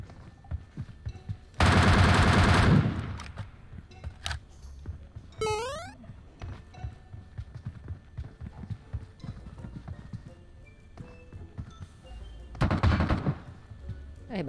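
Bursts of automatic gunfire in the mobile battle royale game PUBG Mobile, two loud rapid volleys several seconds apart, with a shorter burst and scattered game sounds between, no talk over them.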